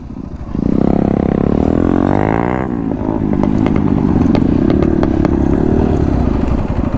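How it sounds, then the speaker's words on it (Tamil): A TVS Apache motorcycle nearby revs hard during a circle wheelie, its engine note rising and falling. The revving then settles into a steady, loud drone with rapid clattering and scraping as it brakes and leans, and no voices are heard. "நீங்கள் பிரேக்கையும் அடித்து வண்டியை சாய்ச்சிங்கன்னா வண்டி இந்த பக்கமே தான் வரும்"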